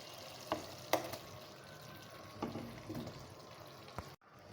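Fried vegetables tipped into roasted masala in a pan, a low background sizzle with a few sharp clanks and scrapes of a spoon, faint and close, ending in a sudden cut.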